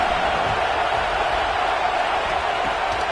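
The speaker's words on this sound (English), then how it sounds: "The Buckeye crowd alive on third down." Ohio State Buckeye home crowd roaring on third down in a college football video game, a loud continuous stadium wash of cheering with a faint voice mixed in.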